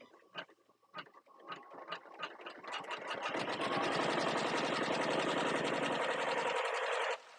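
An embroidery sewing machine stitches a zipper pouch: a few separate taps, then a fast, even run of needle strikes that holds for several seconds before it stops.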